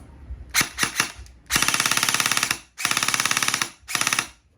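A Double Bell M4 airsoft rifle, model 063 with a 6.5-inch front, fires close by: three quick single shots, then three long rattling full-auto bursts and a short final burst, loud with clean pauses between.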